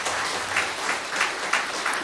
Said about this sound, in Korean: 박수 한번 좀 크게 쳐서